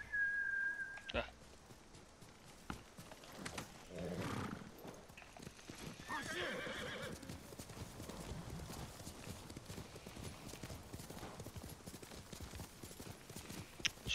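Hoofbeats of a galloping horse clip-clop steadily through a Ghost of Tsushima game scene, with a horse whinnying and a short whistle call near the start, all layered over game ambience and some speech.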